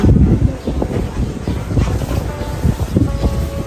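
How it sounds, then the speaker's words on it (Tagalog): Strong wind at Bolinao, Pangasinan, buffets the microphone in loud, uneven rumbling gusts, with faint outdoor sounds underneath. "Lakas ng hangin."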